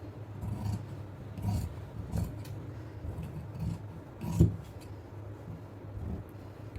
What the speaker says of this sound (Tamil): இது இந்த கர்வ் கட் பண்ணிடுறோம்.